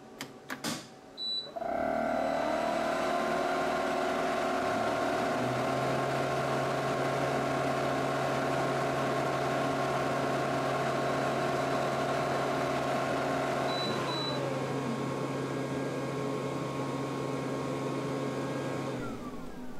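An xTool P2 CO2 laser cutter runs a cutting pass, starting after a few brief clicks. A steady, close mechanical hum with fan and motor drone holds for the rest of the run, shifting pitch slightly partway through.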